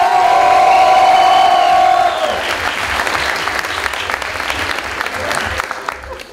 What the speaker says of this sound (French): Veuillez faire encore plus de bruit pour Enzo